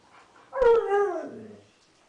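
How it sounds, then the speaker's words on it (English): A puppy gives a single close whimpering cry that rises into a tonal whine and trails off over about a second, alone in an otherwise quiet space. "Now let's move on to the puppies."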